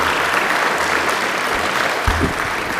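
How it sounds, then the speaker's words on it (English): Steady audience applause fills a school auditorium after a high school speaking contest, a dense continuous patter of many hands at even loudness throughout. "How about one more round of applause for all of our speakers this evening?"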